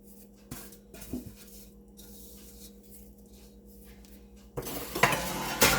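Metal utensils clatter and scrape in a pan as spice masala is mixed in ghee for methi paak, with soft scraping at first and louder clinking bursts near the end.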